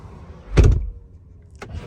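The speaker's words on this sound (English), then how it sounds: "I come to the car, push the button, it'll end up unlocking and opening the door for me." A short mechanical clunk of a 2022 Tesla Model X door unlocking at a button push, followed moments later by a softer click as it opens automatically nearby.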